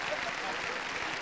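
An audience applauds at a live 1989 Greek bouzouki concert, a dense, steady wash of clapping with voices mixed in.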